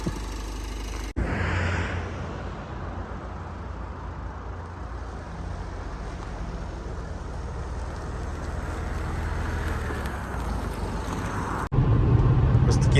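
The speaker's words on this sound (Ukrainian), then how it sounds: "а зараз зробимо невеличкий тест-драйв" A Renault Koleos 2.0 dCi SUV on a test drive: a steady diesel engine hum and road rumble with wind noise fill the cabin at even loudness throughout, with brief louder bursts at the start and end.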